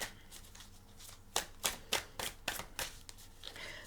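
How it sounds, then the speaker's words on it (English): A deck of tarot cards being shuffled close up, a quiet run of about nine crisp riffling bursts in quick rhythm after a soft handling start. "But I like to shuffle them with you here too."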